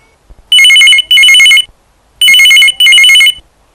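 A telephone rings for a caller getting through to the Hello Akashvani phone-in programme on Chhindwara FM radio: two loud double-ring bursts, clear and alone, with a short gap between them.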